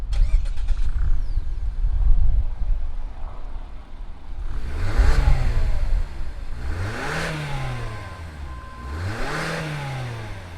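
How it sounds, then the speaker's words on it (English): A 2020 Toyota Yaris with a Mazda-built engine starts up, then revs three times in close succession, each rise and fall clear and near with no talking. "But why don't we go ahead and fire up this Yaris and see what it sounds like."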